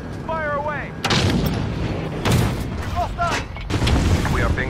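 Heavy AC-130 cannon blasts from the Modern Warfare online shooter, three or four big booming shots spaced about a second apart, loud and close, layered over dense battlefield noise with radio-style chatter in between.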